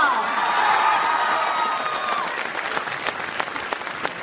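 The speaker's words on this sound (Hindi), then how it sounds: "अब बच्चे चिल्ला रहे और तालियां मार रहे" Children in a university hall, UKA Tarsadiya University in Bardoli, Surat, clap and shout. The crowd noise is loud at first and then thins into scattered, sharp claps.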